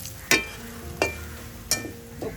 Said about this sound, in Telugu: ఒక్క నిమిషం ఇట్లా ఆయిల్లో ఫ్రై చేస్తే సరిపోతుంది అనమాట